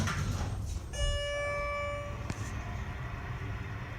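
A Schindler RT hydraulic elevator in a Sears store at Crabtree, Raleigh runs with a steady low mechanical rumble, and a sustained electronic tone rings for about a second partway through.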